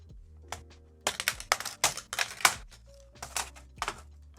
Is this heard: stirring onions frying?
no